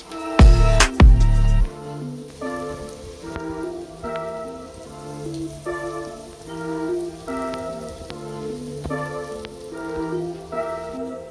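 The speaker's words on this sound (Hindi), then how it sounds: "सॉल्ट और हल्दी जो है इसको भी इसमें डाल देते हैं और इनको भी थोड़ा सा फ्राई कर लेते हैं" Okra frying in a hot pan after salt and turmeric are added, a steady dense sizzle and crackle with a few loud clatters at the start, close and continuous without talk.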